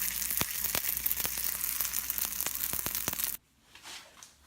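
Hotteok, a Korean street-food pancake made with dumpling wrappers, frying in a pan: a close, crackling sizzle with sharp pops that suddenly stops, leaving faint rustling.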